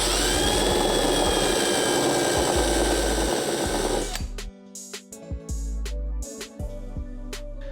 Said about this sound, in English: Here you can see Taylor sanding up the edge of the tube so it's as square as we can possibly get it